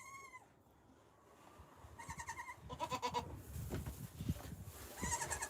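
Goat bleating on a homestead, several harmonic calls that start clear and close, then repeat amid rustling and other farm noise.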